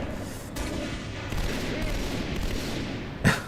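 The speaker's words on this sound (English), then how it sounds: "Gunfire?" Gunfire in the Halo: Reach video game, a dense, steady crackle of distant shots running throughout, capped by a louder sharp burst near the end.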